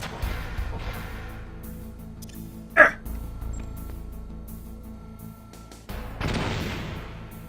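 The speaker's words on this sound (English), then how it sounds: "so I'm going to throw a grenade at it." A grenade is thrown and blows up in the Metal Gear Solid video game: one short, sharp blast cuts through a steady low game ambience, and a broader rushing roar swells near the end.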